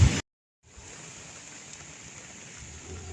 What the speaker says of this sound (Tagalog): Umuulan ngayon. Super lakas talaga.